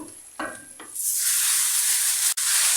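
Minced beef filling for murtabak being stirred in a hot pan, with a couple of scraping strokes giving way to a loud, steady, close sizzle that continues with one brief break.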